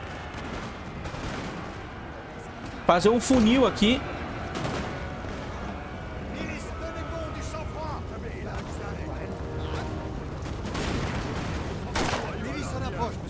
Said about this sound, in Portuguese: Vou meter tiro aqui, doido.